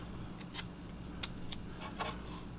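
Small tabs of blue tape are torn off in a few short, crisp rips and crackles, quiet and close, with brief pauses between them.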